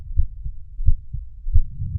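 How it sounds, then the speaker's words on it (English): A heartbeat sound effect thumps in a slow, regular rhythm, each deep double beat standing alone against silence. "He could hear his own heartbeat"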